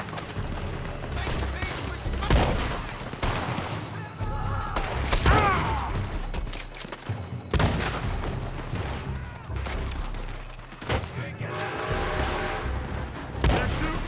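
Gunfire from a building in Red Dead Redemption 2 crackles in scattered bursts of shots amid a busy, noisy mix of ambient game sound, with sporadic heavier thuds throughout.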